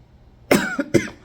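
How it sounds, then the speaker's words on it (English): Two quick, close coughs, the second following the first after a brief pause, with no talk around them. "me coughing"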